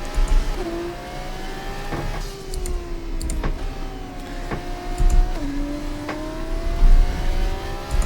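F2 race car in the F1 24 game at the Netherlands circuit, engine whining steadily as it upshifts and downshifts in several clear steps, with occasional clicks and bumps over a low rumble, no talk.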